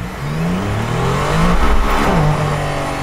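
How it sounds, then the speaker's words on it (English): A Mercedes-AMG One hypercar accelerates at full throttle, heard loud and close from inside as a steady engine roar that climbs in pitch, drops briefly at a gear change, then pulls up again with no talking. "Let's feel the acceleration when I floor it."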